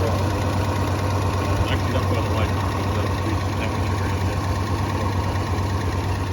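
A real car engine idles steadily as a rumbling low drone throughout, with a faint mechanical knock and some background voices under it.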